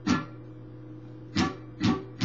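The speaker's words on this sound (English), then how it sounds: "Chucking is basically where you're just holding the strings so they're muted," Four percussive muted guitar strums, a dull scratchy chuck, then a pause and three more in quick rhythm, close and alone.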